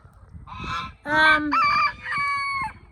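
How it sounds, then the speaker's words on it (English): Farm geese honk loudly and close by, giving several harsh, nasal calls in a row. The calls overlap slightly against a low background rumble. "He finds that geese are loud and a little obnoxious at times."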